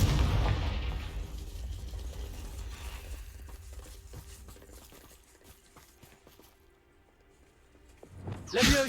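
A Confringo spell explosion in a Harry Potter video game opens with a loud booming blast, then a fading rumble and scattered crackles and clatter, and ends in a short sharp whoosh.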